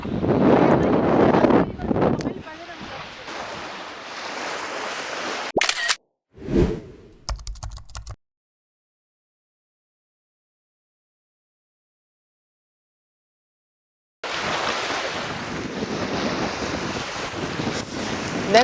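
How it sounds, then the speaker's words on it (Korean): Strong wind gusts roar across the mic at a seaside fishing spot on the Dangjin coast, with surf beneath; a voice and handling noises break in early, then a stretch of silence before the blustery wind returns loud and steady. "지금 바람까지 지금 도와주질 않아서 걱정은 되거든요"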